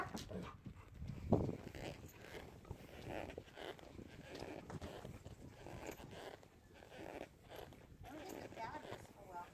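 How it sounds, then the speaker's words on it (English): A dog heard on a trail ride alongside horses, with faint yelps amid steady outdoor noise, hoof clops and footsteps, fairly distant and low in level. "dog."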